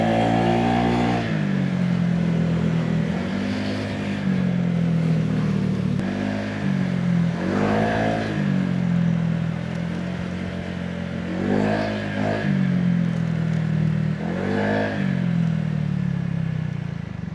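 A Honda Giorno 125 scooter, freshly remapped, revs repeatedly on its center stand, each throttle blip rising sharply then falling back to idle, about six close, loud bursts spaced a couple of seconds apart.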